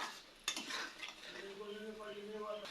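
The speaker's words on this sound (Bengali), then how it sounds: "খুব সুন্দর করে কষে নিব।" Spice paste being stirred and sautéed in a pan, a sharp clink of a utensil against metal followed by soft scraping and a low, quiet sizzle, with a faint tonal hum underneath.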